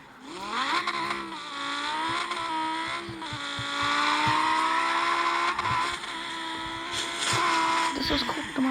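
A car drifts in a driving video game, its tires squealing in long sustained pitched whines over a revving engine, with a person talking over it.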